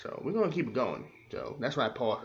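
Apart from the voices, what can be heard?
No distinct noise like a dog, phone or traffic.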